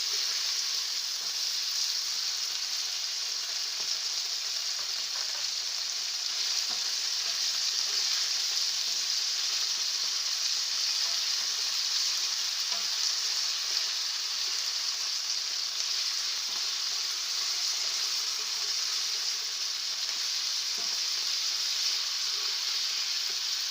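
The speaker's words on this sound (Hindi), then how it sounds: "थोड़ी देर चिकन को पकाएंगे जब तक ये इसका कलर पिंक से वाइट हो जाए" Chicken pieces fry in a hot pan for fried rice, giving a steady, even sizzle with a bright hiss that runs unbroken and fairly close, with no talking over it.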